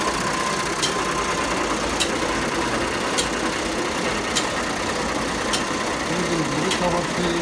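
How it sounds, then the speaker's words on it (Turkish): An antique wool carding machine fluffs gathered wool for a pillow, giving a steady, loud mechanical whirr and rattle with faint regular clicks, running continuously throughout at close range. "Toplamış yünleri bu makine kabartıyor."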